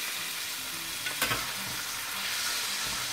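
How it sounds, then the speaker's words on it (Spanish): Cuttlefish and squid fry for a paella in a steady, loud sizzle that fills the whole stretch. Around the middle comes a brief knock and scrape of a utensil, and no one talks. "Claro, que sofríe un poco así, como 10 minutos"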